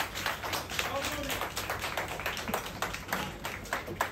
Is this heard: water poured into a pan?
no